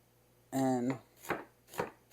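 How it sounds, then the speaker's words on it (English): Ingredients for an old-fashioned southern chicken stew are cut small with a knife. A brief tonal squeak is followed by two crisp, separate chopping knocks on a cutting board. "And I'm cutting these really small"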